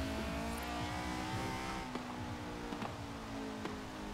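Engine of a widebody Honda S2000 drift build in Forza Horizon 4, revving high and steady at a moderate level, with a few brief sharp spikes that could be shifts or bumps.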